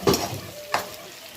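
Onions being sautéed in a pan for rice upma sizzle softly while two quick stirring scrapes sound close by, one at the start and another shortly after.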